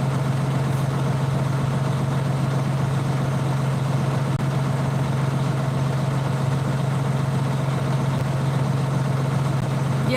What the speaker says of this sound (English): It's a big truck.